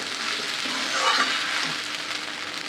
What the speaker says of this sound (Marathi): अशी कमी गॅसवरच चांगली परतायची खिचडी.